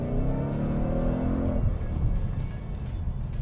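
Supercharged Ford Mustang S550 RTR Spec 3 pulling away hard, a loud, dense engine roar with rising harmonic whine that drops into a rougher broadband rumble as it accelerates off, steady and close throughout.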